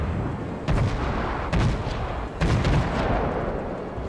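Battleship main guns fire in the naval combat game World of Warships, with three heavy booming salvos spaced about a second apart, each loud and close with a rumbling tail, and no voices.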